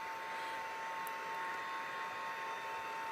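A heat tool blowing hot air to dry embossing powder on a stamped card, a constant steady whirring hiss with a faint high tone, loud and unbroken, without speech.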